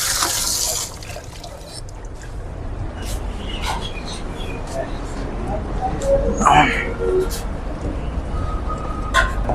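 Tap water runs while hands are washed inside a restaurant, a moderate splashing stream with spatters and drips, heard under and between people talking nearby.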